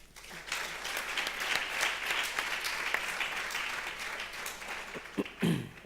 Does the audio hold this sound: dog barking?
no